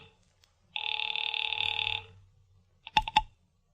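An old-fashioned telephone bell rings in one sustained burst after a call is dialed in a 1940s radio drama, followed by a few sharp clicks as the receiver is picked up.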